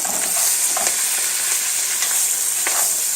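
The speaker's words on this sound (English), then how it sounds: "here we have our mushrooms and onions. Put them in first. And saute them for a little while." White mushrooms and coarsely chopped white onion saute in a pan for a lamb stew, a close, steady hiss of sizzling fat punctuated by a few soft stirring taps, with no voices.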